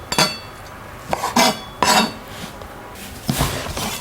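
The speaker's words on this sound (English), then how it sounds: "Cut the tofu puff into 2." A knife cuts a tofu puff in two on a kitchen board, giving a handful of sharp clacks and clinks in uneven pairs. The sounds are close and clear, with brief quiet between them.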